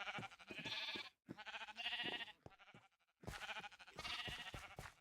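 Sheep in Minecraft bleating in a wild area, several overlapping nasal bleats close by in rhythmic bursts with a short gap of quiet midway, no talking.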